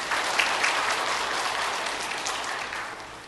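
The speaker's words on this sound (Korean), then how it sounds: "우리 자리에서 잠시 일어나셔서 인사해 주실 때에 박수로 환영하겠습니다" Church congregation applauding in welcome for a newly appointed tenor soloist at a Sunday worship service, a dense, steady wash of clapping that tapers slightly toward the end.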